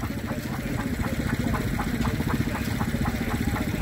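At a stationary engine rally, an old stationary engine driving a 3-inch centrifugal pump chugs steadily at idle, its even, rhythmic knocking beats close and continuous throughout.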